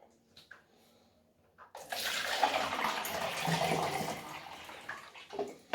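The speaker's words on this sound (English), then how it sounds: "I'm gonna pour the developer right out into the same jug I used before to pour it in" Photographic film developer poured from a developing tank into a jug, a sustained splashing liquid gush lasting a few seconds after a quiet lead-in, close and alone with faint handling noises around it.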